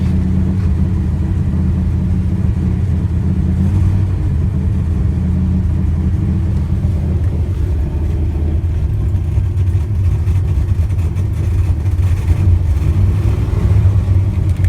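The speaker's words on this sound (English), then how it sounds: "Yes, I gotta rev her up a bit." A 1963 Studebaker Lark two-door's engine revved while driving, a steady loud mid-pitched rumble with rising throttle surges, heard close from inside the car with no talking.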